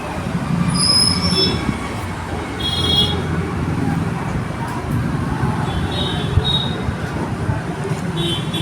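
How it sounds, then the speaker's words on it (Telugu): A zigzag (jaki) sewing machine stitches a saree fall at slow speed, giving a steady, dense, rattling mechanical whir close by that runs throughout with a faint rhythmic chatter. "మీకు కనబడడం కోసం మిషన్ కొంచెం స్పీడ్ తక్కువలో చూపిస్తున్నాను."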